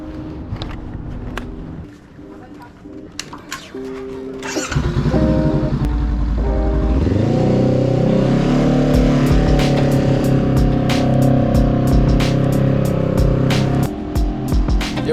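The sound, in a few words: motorcycle riding through San Francisco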